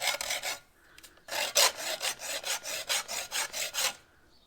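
A hacksaw blade is drawn back and forth across a bolt, a few strokes and then a quick, even run of about ten rasping scrapes, close and loud with no talk.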